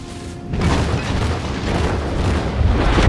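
Warship main guns firing in World of Warships, a heavy booming blast after a brief quieter lead-in, followed by a sustained low rumble and rolling echo that stays loud to the end.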